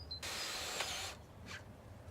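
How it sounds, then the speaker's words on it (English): A power drill whines steadily for about a second as it drives a self-drilling screw into the frame of a small greenhouse door, then cuts off, followed by a brief faint clunk. "and secure it with a self-drill screw."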